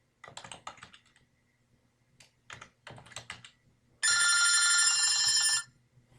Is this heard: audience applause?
no